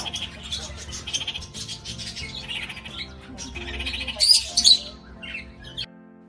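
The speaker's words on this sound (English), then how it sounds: "P for parrot" A parrot squawking within a children's phonics alphabet song, a few bright shrill squawks rising over the cheerful backing music near the end.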